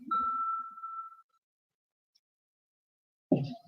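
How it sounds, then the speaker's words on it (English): A singing bell in a Buddhist devotional setting is struck once, its clear sustained tone ringing for about a second before fading into silence, then a voice starts speaking. "I'll just quickly ring the singing bell."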